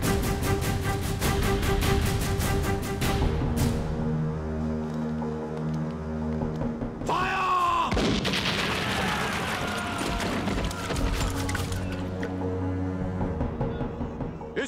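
Loud, dense blasts and bursts of gunfire from an action film over a heavy rumbling score, with a sharp explosive surge partway through and continuous clamor afterward.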